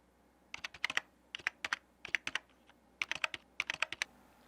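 Quiet, close computer keyboard typing while editing text comes in short irregular clusters of crisp key clicks, separated by brief pauses.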